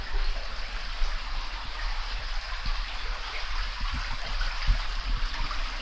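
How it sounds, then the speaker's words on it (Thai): Clear water in a stream at a tourist spot flows steadily, a continuous broad rushing wash with soft low gurgles, moderately close and unbroken throughout. "ก็จะมีน้ำไหลอยู่ตลอดนี่"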